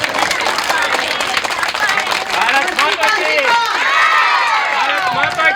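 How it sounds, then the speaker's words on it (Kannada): A school audience of children at an environmental event claps together, a dense, sustained burst of applause heard close and loud, mixed with crowd murmur and voices. "ನಿನಗಿಗೋ ನಮ್ಮಿಂದ ಒಂದು ದೊಡ್ಡ ಚಪ್ಪಾಳೆ."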